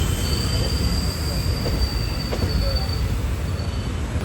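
Wheels squeal in a long, high, steady whine as a Bengaluru to Ernakulam InterCity express train runs near Salem, over a loud, constant rumble of the rolling carriages, with no one talking.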